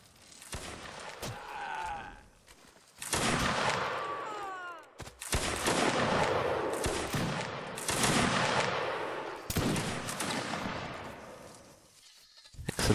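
Musket volleys crack out in the Napoleonic Wars game during a line battle, coming as several loud bursts of massed fire that are separated by brief lulls, with some faint voices in the background.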